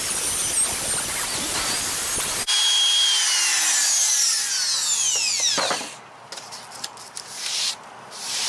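A power tool trimming a galley door panel in a DIY Promaster 2500 159-inch wheelbase van build, a loud whining cut with a falling pitch sweep as it spins down, then quieter scraping and tapping.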